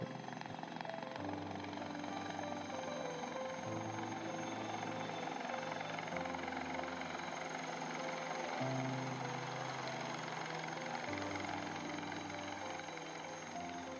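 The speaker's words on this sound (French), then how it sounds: "L'hélicoptère se pose" A helicopter landing, its steady rotor roar and whine filling the scene, loud and continuous, with deep engine tones shifting slightly in pitch as it settles.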